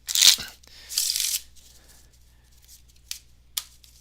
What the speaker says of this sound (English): Let's shuffle and cut.